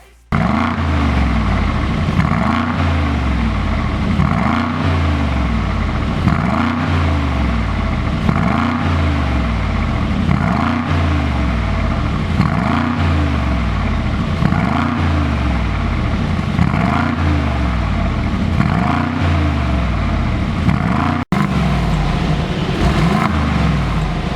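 A Mercedes G63 AMG with a tuned variable exhaust revs loudly over and over, each rising roar dropping back to idle in a steady rhythm.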